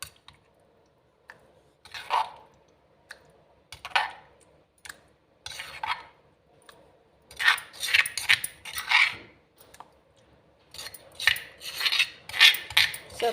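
Freshly ground bottle gourd chutney is scraped from a stone grinder into a bowl, giving short, near scraping and clinking strokes in irregular bursts that grow busier toward the end, with quiet gaps between.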